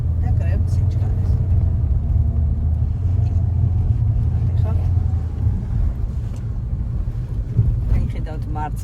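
A car on a driving-exam route in Sachkhere gives a steady, close, low engine rumble and road noise throughout, with faint talk over it.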